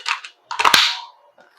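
A WE AK74 gas blowback airsoft rifle fires a sharp mechanical clack up close. A brief burst comes first, then a louder snap whose rattle trails off quickly.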